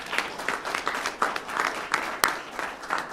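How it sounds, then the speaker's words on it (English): Board meeting attendees applaud together in a moderate, fairly close round of clapping with slight pulsing swells and one sharp clap standing out, continuing steadily to the end. "I think that deserves a round of applause."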